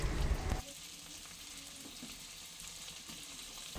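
Cut brinjal pieces tumble into a pan of softened frying onions for a brinjal and salted-fish curry, a loud initial clatter giving way to a steady, close hiss of sizzling oil that continues evenly.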